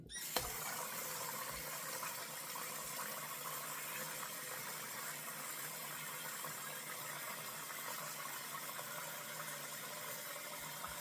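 Tap water runs steadily and close by while soap is being rinsed, a continuous, even rushing hiss after a brief knock at the start, with no voices.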